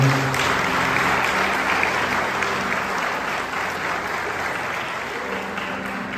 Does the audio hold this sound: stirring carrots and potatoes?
no